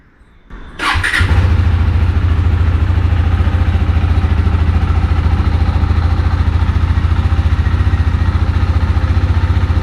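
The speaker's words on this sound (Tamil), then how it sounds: "பார்த்தீங்கன்னா இன்ஜின் சவுண்ட், எக்ஸாஸ்ட் சவுண்டு முன்னாடி இருந்தோம் நல்ல பயங்கரமாக இருக்கும்." A KTM Duke 390 motorcycle engine cranks and catches within a second, then settles into a loud, steady, close idle with a throbbing exhaust note that runs unbroken for the rest of the clip.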